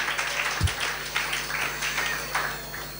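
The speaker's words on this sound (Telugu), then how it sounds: "చప్పట్లు కొడదాం." A church congregation claps together during a sermon, a steady run of fairly even, repeated claps at moderate loudness with no talking over it.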